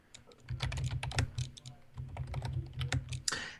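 Rapid bursts of typing on a computer keyboard, clicks clustered in quick runs with brief pauses, fairly close and clear with no talking over it.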